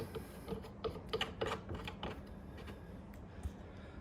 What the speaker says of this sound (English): I'm just screwing this in now.